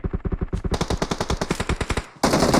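Loud, close bursts of rapid automatic gunfire in a multiplayer shooter video game, a steady rattling stream of shots that briefly pauses and then gives way to a denser, harsher blast of fire, with no one talking.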